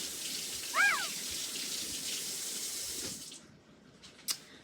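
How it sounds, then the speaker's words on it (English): Water runs steadily from a tap as a plant is rinsed off, a continuous broadband hiss that cuts off near the end, followed by a couple of faint clinks and drips. "I just rinse everything off."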